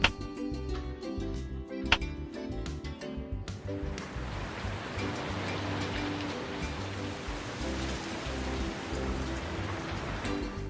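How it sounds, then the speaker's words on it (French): Steady, dense rain patters on surfaces in Madagascar, no voices, following a short stretch of quieter, tonal ambience at the start. "La pluie s'invite l'après-midi"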